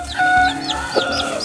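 Ga Noi, Shamo and Asil chickens with a baby chick, giving soft low clucks and repeated high thin peeps from the chick, close by over a faint steady background.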